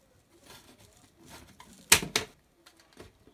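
Two sharp, close snips a quarter-second apart as a plastic mint propagation tray is cut between its rows, with soft handling rustles before and after in an otherwise quiet room.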